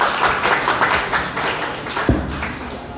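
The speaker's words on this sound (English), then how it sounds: "Please put a round of applause for Ma'am Roslyn." A seminar audience at a career counselling event gives a round of applause, close uneven claps with a few sharp taps and thumps standing out.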